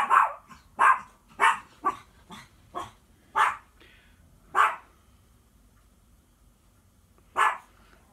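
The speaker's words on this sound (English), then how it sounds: "Y'all hear my dog barking?" A dog barks repeatedly indoors, sharp loud barks in quick bursts at first, then spaced out with pauses, with no talking over them.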